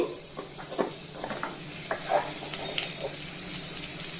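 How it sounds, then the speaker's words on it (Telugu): Urad dal, red chillies and cumin frying in hot oil in a pan: a steady, close sizzle with scattered small pops and crackles throughout. "1 స్పూన్ జీలకర్ర ఇవన్నీ వేసి దోరగా వేగించాలండి"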